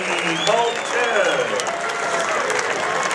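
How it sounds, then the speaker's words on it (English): An audience applauds after a technical knockout win at an amateur boxing match, dense sustained clapping filling the hall with crowd voices mixed in. "continue your applause"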